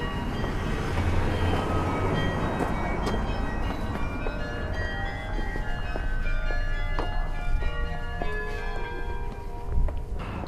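Church bells ring out in a Schiedam street, a rich continuous peal of overlapping strikes and lingering tones that carries loudly through the whole stretch with no talking.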